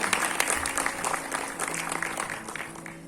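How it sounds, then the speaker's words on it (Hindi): Audience applause welcoming guests at a regional training seminar for anganwadi workers in Ranchi, a steady, moderately loud wash of many hands clapping throughout, with a low hum beneath. "जोरदार तालियों से हमारे आज के गण्यमान्य अतिथियों का स्वागत करें"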